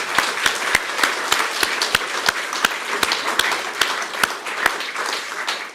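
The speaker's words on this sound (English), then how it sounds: "So we'll do a round of applause for Grace, who isn't here." An audience at an annual town meeting claps in a steady round of applause for an award recipient, with a few sharp, distinct claps standing out over the dense patter throughout.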